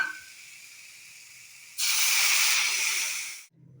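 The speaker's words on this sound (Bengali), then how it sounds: "এখন জলটা দিয়ে দিচ্ছি" Water poured into a pan of hot fish curry with potato and pointed gourd bursts into a loud, close, sustained sizzling hiss that lasts a couple of seconds and then cuts off abruptly.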